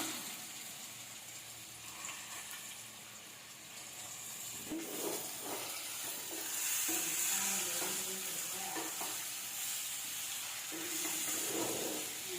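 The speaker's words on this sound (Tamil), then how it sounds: "அடுப்பை மீடியமாக வச்சு கிளறி விட்டுக்கலாம்." Grated mango frying in a pan for mango pickle, a steady close sizzle and hiss that grows louder midway, with scraping stirring strokes against the pan and no talk.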